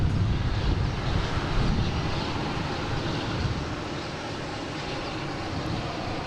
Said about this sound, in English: we got a Cape Air coming in behind the Frontier here, coming in from Augusta